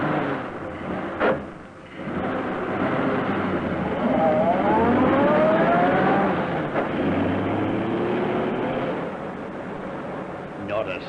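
A car is started and driven off at speed in an old radio drama, the engine rising and whining steadily under overlapping talk for several seconds before easing away.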